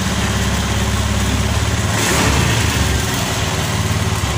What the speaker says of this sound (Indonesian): motor sudah menyala karena kita ganti yang baru gitu kan untuk ECU-nya